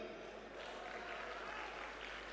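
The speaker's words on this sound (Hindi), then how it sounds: "आपकी तालियां बताती हैं कि आप उन्हें कितना नजदीक से जानते हैं" An audience at a Hindi poetry gathering (kavi sammelan) in Bengaluru, Karnataka claps steadily for the poet Sampat Saral, a dense, even wash of hand claps sustained throughout without a break.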